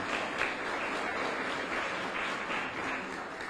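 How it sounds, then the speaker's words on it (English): A crowd at a political gathering in Louisiana claps steadily, a dense, unbroken wash of applause throughout. "Y'all clap for them brothers."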